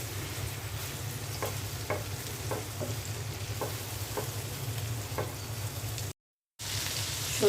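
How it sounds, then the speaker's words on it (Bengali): Mustard paste and ginger-garlic paste frying in a pan, a continuous close sizzle with a low hum beneath and soft periodic stirring scrapes, cut by a brief dropout near the end. "সরষেটা হালকা ভেজে নিলাম।"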